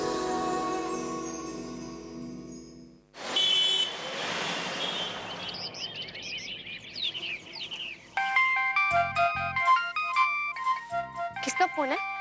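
A phone ringtone plays in bright, repeating electronic tones near the end, following a stretch of mixed noise and background sound.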